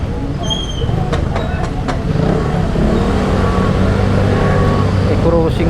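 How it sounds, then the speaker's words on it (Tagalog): Road traffic passes close by, with a car engine humming and revving as vehicles move along, loud and continuous, and a voice talking over the engine noise. "Nandito konting traffic."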